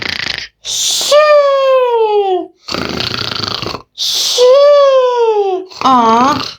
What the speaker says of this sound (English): Aw, those are some cute tiny snores.